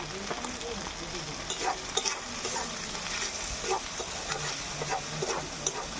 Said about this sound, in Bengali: একটু নাড়াচাড়া করে নেব একটু লঙ্কার গুঁড়ো দিয়ে দেবো একটু ভালো করে নাড়াচাড়া করে নেব